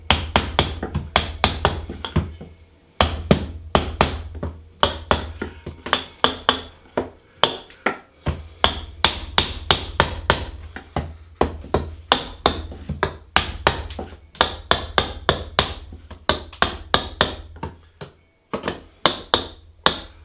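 Sharp wooden taps and knocks in quick irregular clusters as a small wood block is tapped into a folk art puzzle, close and crisp, with brief pauses between runs of strikes.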